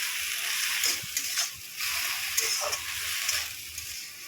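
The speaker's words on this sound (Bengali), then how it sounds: "অল্প আঁচে শাকটাকে ভাজতে হবে।" Water spinach greens fry gently over low heat in a pan, a soft, quiet, steady sizzle with occasional faint stirring clicks, heard close without talk.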